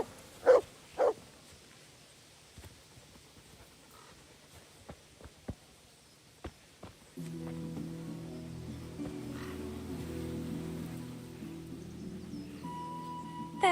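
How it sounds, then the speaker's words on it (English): Two quick barks from a dog in the medieval video game Kingdom Come: Deliverance sound near the start, followed by sparse faint clicks and then a low humming game ambience. "There's a good doggy."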